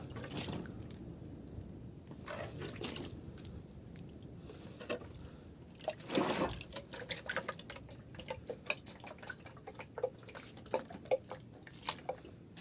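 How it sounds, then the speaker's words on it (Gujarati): Water sprinkled over a freshly mixed compost heap gives a run of soft, irregular dripping and splashing patters, with a few louder splashes near the middle and scattered droplets afterward. "હવે આની માથે આછો આપણે પાણીનો છંટકાવ મારી દઈએ, જેથી કરીને ભેજ ટકી જાય."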